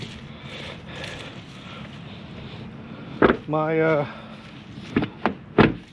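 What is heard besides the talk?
truck door being shut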